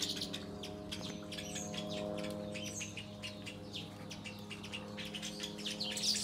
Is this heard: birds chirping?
yes